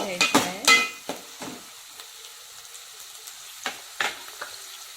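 Chopped onions browning in hot oil for a mutton curry, with a few sharp spoon scrapes and clinks up front, then a soft steady sizzle broken by occasional stirring strokes.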